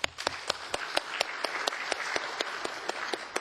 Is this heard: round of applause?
yes